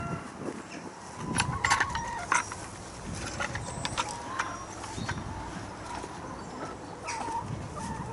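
Hens clucking and murmuring nearby at an allotment in a soft, continuous chatter, with occasional sharper calls over a rustling background.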